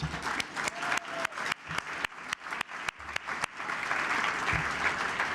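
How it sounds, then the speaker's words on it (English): A crowd applauding steadily, dense rapid clapping throughout that swells slightly toward the end, with no talking. "Shimon, Sandro, Yosi, and Meyer, please stand up as well and give them a round of applause."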